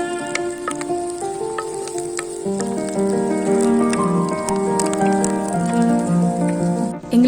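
Onions, dried red chillies and curry leaves frying in hot oil in a pan for Tamil-style pepper chicken fry, a steady close crackling sizzle throughout with no talking.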